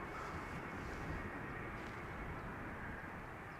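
An Embraer E2 195 airliner at Amsterdam Schiphol airport gives a steady, broad jet roar that holds at an even level throughout, with no voices over it.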